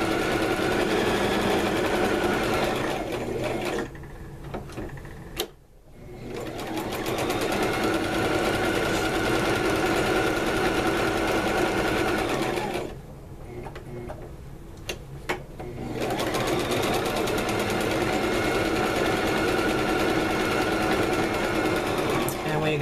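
Domestic sewing machine stitching a strip quilt, running in long steady bursts with a fast mechanical whir and needle ticking, stopping briefly twice at the pivots before starting up again.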